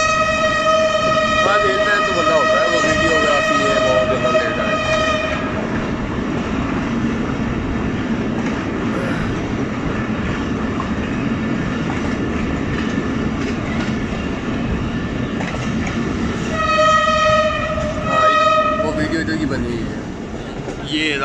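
Long, loud blasts of a passenger train horn on the Quetta to Chaman line in Pakistan, over the rumble of the passing train, the horn sounding again later, with voices talking underneath.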